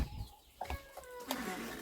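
Backyard chicks cheep in short, shrill squeals at close range, a few separate calls spread across a quiet moment with no talk.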